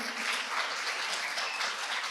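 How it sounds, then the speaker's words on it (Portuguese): Church congregation applause during a prophetic conference service, a continuous close wash of many hands clapping at a steady level with no talking. "Vamos aplaudir a irmã Marilu."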